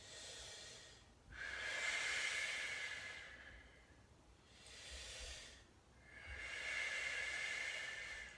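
Slow, steady breathing during a hip and hamstring stretching exercise, three long breathy exhales with pauses between, close but soft, alone.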